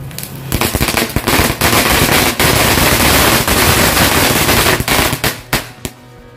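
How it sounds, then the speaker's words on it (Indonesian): A Conic Fountain firecracker set off for Lebaran fizzes and crackles loudly in a dense, continuous burst that breaks into scattered pops as it fades toward the end. "lihat sangat keren sekali ya guys dari mercon Conic Fountain-nya"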